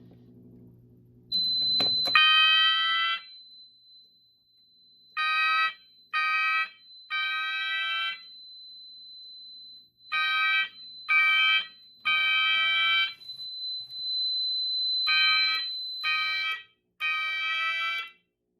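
A Notifier System 500 fire alarm sounds in repeated bursts of a shrill, harmonically rich horn tone. Groups of three pulses alternate with a longer blast, over a steady high whine, loud and close with no talking.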